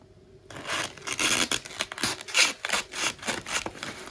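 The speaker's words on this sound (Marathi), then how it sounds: "आता कटरनी इथनं आपल्याला कट करून घ्यायचंय याला." A utility cutter slices through a paper filter in a craft project, with a series of scratchy rasping strokes and tearing scrapes in an uneven rhythm, close and moderately loud.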